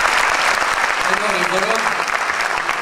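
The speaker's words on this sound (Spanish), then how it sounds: "Răspunsul prin aplauze." Audience applause fills a concert hall, dense and steady throughout, with a voice speaking briefly over the clapping.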